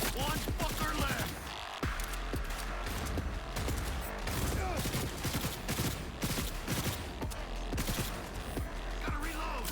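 Squad gunfire in the video game Ghost Recon: a dense, sustained barrage of overlapping rifle shots and rapid bursts, loud and continuous throughout, with occasional mechanical clicks mixed in.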